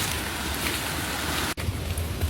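Steady rain falls on a trail near a reservoir in Hong Kong, a dense even hiss that drops out for an instant before resuming alongside faint low rumbles.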